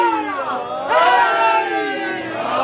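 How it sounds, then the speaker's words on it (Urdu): A large crowd chants slogans in unison at a Muharram majlis gathering in Bradford, England, loud and sustained with rising and falling voices, swelling louder about a third of the way through. "اسی لیے تو یہ نعرے لگائے جاتے ہیں۔"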